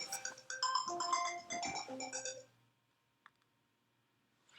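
A phone ringtone plays a bright electronic melody of quick repeated tones for about two and a half seconds, then cuts off abruptly, leaving near silence with a faint click.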